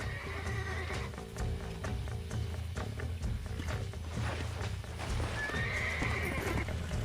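Horses in Red Dead Redemption neigh and whinny loudly over a continuous drumming of hooves, with shrill calls rising near the start and again toward the end.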